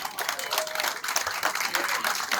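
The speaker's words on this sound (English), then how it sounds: "Round of applause." Applause from the crowd at a vintage car show, with Cadillac and LaSalle club members outdoors, comes as a brief, steady patter of clapping at moderate level.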